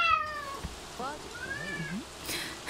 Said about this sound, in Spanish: Mi gato empezó a gritar.